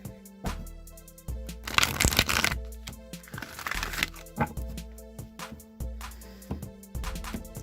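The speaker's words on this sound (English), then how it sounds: "All right, one more shuffle here." Oracle cards being shuffled by hand, with quick papery riffles and crisp snaps that come in short bursts, the densest flurry early on, with steady background hum and no talk.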